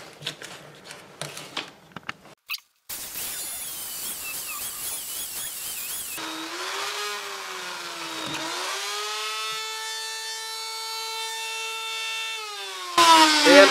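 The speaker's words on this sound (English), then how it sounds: "I'm gonna go around with a smaller burr and trace some of this stuff out." A rotary carving tool fitted with a small burr whines against wood, its pitch rising and dipping as it loads and frees up, after a few scattered knocks and a brief burst of broadband noise.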